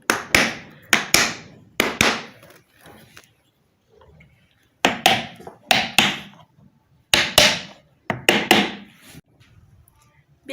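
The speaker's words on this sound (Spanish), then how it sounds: "Le voy a dar unos golpes con una tabla y el martillo para que entre bien." Hammer blows on a wooden board seat the covers of a burnt-out water pump during repair: sharp, loud knocks come in quick clusters of two or three, separated by short quiet pauses.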